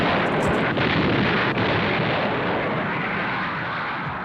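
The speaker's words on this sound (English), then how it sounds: "Montgomery's assault at El Alamein began with a barrage of 900 guns." A dense, continuous rumble of a massed WWII artillery barrage of 900 guns at El Alamein, a loud, near, roaring wash of overlapping booms without distinct individual shots and no speech.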